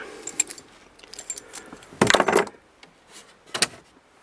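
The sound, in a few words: keys jangling as they are handed over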